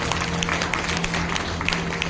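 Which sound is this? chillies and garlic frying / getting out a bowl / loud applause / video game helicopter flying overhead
loud applause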